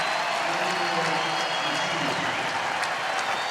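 A baseball stadium crowd of over 45,000 in Atlanta gives a sustained, even ovation of applause and cheering for an Orioles star, heard as a broad wash of clapping with scattered shouts throughout.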